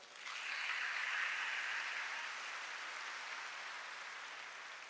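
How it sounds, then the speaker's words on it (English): Congregation clapping for catechists during a thanksgiving Mass for a Catholic church's 50th anniversary in Ikeja, a steady, even wash of many hands held for several seconds in a large reverberant space. "Please clap for them"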